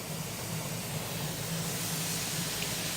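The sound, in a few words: steam venting from a pressure canner while canning ground meat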